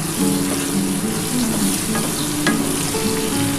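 Turmeric powder fries in hot oil in a pan for a hilsa fish curry with brinjal and potato, a loud steady close sizzle with stirring scrapes and no talk.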